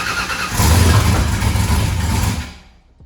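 A turbo car engine fires up for the first time, cranking into a loud, rough roar that holds for about two seconds and then dies away.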